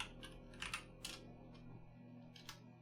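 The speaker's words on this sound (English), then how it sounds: "This keyboard, man, I'm swear there's something wrong with it." Keys clatter on a computer keyboard in a quiet room, several sharp clicks in quick irregular bursts with short pauses between them.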